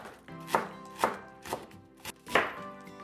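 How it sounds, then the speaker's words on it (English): Knife chopping green onions on a cutting board, five distinct sharp chops at a steady, unhurried pace, close and clear with no talking. "next we're gonna cut up some green onions."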